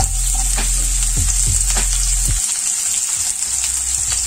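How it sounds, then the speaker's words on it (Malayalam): Sliced onions sizzle loudly in hot oil in a frying pan, a steady close frying hiss with a few stirring scrapes, the low crackle dropping away partway through; no one speaks. "ഇനി എണ്ണ നന്നായി ചൂടായി വരുമ്പോൾ നമ്മൾക്ക് മുറിച്ചു വെച്ചുള്ള സവാള ഇട്ട് കൊടുക്കാം"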